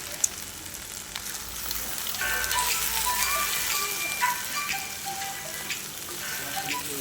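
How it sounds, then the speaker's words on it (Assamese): Ivy gourd and egg stir-fry in a pan with a steady, moderate sizzle and occasional stirring scrapes, close by and with no talk. "আৰু অলপ সময় মই ভাজিখিনি ভালদৰে লৰাই থাকিম যাতে গোটেই কণীখিনি ভাজিৰ লগত ভালকৈ লাগি যায়।"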